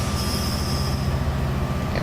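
A Class 67 locomotive rolls back down a steep hill with a steady rail rumble and a thin high wheel squeal running continuously, with no voices over it.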